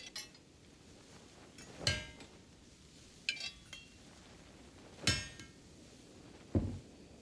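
A blacksmith's hammer strikes metal at a forge in the video game Crimson Desert, four or five separate ringing clanks spaced a second or two apart over a quiet low background, with no speech.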